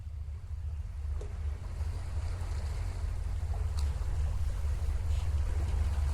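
Ocean waves in the video game A Wolf in Autumn wash steadily as a low, continuous rumble with a soft windy hiss, holding the same level throughout with no voices.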